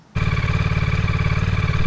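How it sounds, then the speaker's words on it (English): A Ducati motorcycle engine with its stock exhaust idles loud and steady at close range after a brief quiet start, with a smooth even throb and no talk. "the third thing that I really hate about this bike is the exhaust noise"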